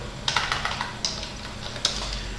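Computer keyboard typing while writing a Matlab script, a run of close, crisp key clicks with a few sharper, louder strokes spaced out over a couple of seconds.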